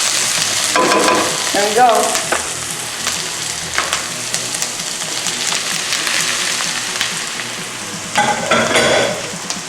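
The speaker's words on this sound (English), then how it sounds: "Alright, it's been cooking for 3 minutes, so I'm gonna put the sausage in." Sausage sizzles and fries in a pot of Filipino monggo soup with vegetables, a loud, continuous crackle broken by scraping stirs; a voice speaks briefly.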